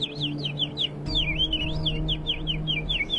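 Someone whistles rapid, warbling bird-like chirps in a continuous run, imitating a songbird over a low background hum.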